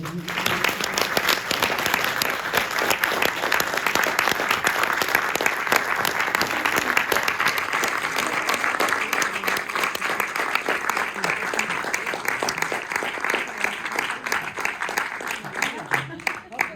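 Audience at a documentary film talk during a Hamburg film festival giving long, steady applause, dense clapping throughout with some voices speaking over it.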